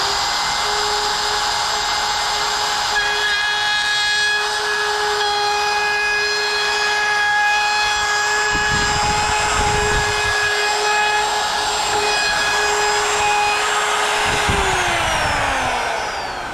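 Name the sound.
router bit trimming edge banding lip on board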